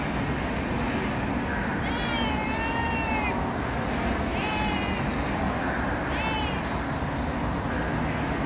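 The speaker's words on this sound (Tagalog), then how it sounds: "May pusa dito sa Robinson," A stray cat meows inside a Robinsons shopping mall, giving three drawn-out, wavering cries over a constant wash of indoor background noise.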